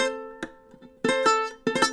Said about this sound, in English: It'll create all that nasty buzz.